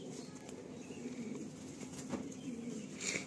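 A male Kalanka pigeon being handled flaps its wings in faint, brief bursts close by, with soft cooing in a quiet room.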